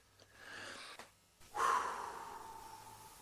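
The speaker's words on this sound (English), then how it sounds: "You can do it for inhale of 4 and then an exhale of 8." Slow breathing exercise, a quiet inhale followed by a fuller, longer exhale of breath that fades gradually, close and soft, with no talking.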